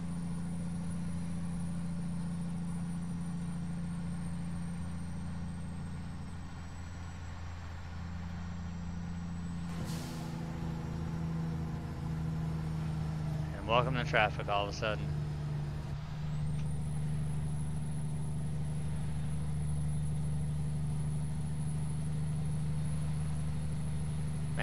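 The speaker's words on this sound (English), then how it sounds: "But this truck sounds so good bogged down under 1500 RPM." A heavy truck engine in American Truck Simulator rumbles steadily at low RPM, bogged down and droning throughout, with a brief air-brake hiss and a short burst of tonal sounds midway, while someone talks over it.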